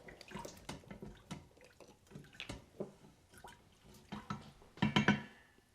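A teaspoon of liquid smoke being poured in a home kitchen while pulled chicken is prepared: small close trickles and drips with light clinks and handling noises, ending in a brief louder splash.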